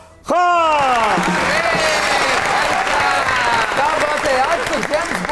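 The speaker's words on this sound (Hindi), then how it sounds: "आपकी बहुत सी तालियों में हमारे सीनियर, हमारे pride, Diwan and only Ashraf Khan" A studio audience applauds on a Pakistani comedy talk show, a sudden burst of loud, dense clapping that swells in and holds steady, with musical tones layered over it.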